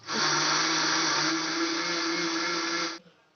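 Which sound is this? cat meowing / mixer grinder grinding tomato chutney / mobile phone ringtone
mixer grinder grinding tomato chutney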